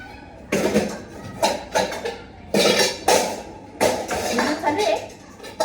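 Metal pots and pans clatter and clink in a home kitchen, several separate bursts of handling a few seconds apart, close and fairly loud, with people talking in between.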